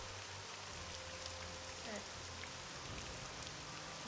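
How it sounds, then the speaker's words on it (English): Rain falls in the game Morrowind running on OpenMW on a Steam Deck: a faint, steady hiss of rainfall with a low background hum and no voices. "Rain's been going on all the time."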